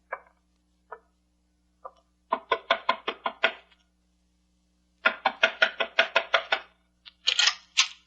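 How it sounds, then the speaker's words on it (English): Knocking on a door for a radio drama effect: a few single raps, then quick bursts of sharp close knocks in rapid runs, loud and clear against silence. "Knock on the door, Shannon."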